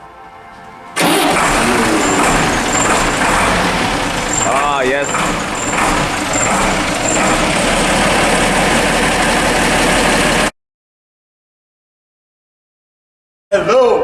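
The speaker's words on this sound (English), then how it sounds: "I have the Mercedes Unimog. It's right here, guys." A 1991 Mercedes Unimog, a truck-tractor hybrid, cranks and catches, then settles into a loud, close, steady diesel-like idle for several seconds before cutting out abruptly. A person speaks briefly over it.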